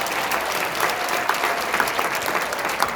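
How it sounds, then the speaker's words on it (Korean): An audience at a church testimony service breaks into applause, a dense, continuous patter of many hands clapping at even loudness for a few seconds, with no talking over it. "박수 좀 쳐봐"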